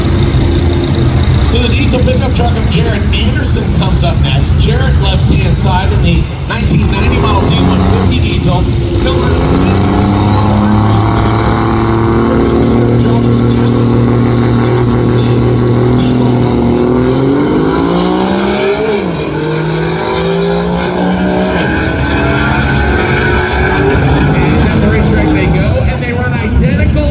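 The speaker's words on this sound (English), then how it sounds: "So the diesel pickup truck of Jared Anderson comes up next" A diesel pickup truck runs at a drag strip, its engine roaring loud and steady with a rising pitch as it accelerates, while a commentator talks over it the whole way.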